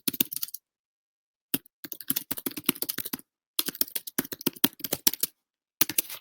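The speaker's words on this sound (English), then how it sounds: "So I'm going to type in a question." A question is typed on a computer keyboard: quick bursts of close, crisp key clicks separated by short pauses, with no talking.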